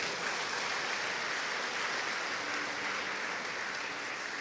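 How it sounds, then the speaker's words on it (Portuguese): Steady applause from a church congregation, a dense, uniform wash of many hands clapping at moderate volume, continuing without pause from start to finish. "Dá um aplauso aí para Jesus"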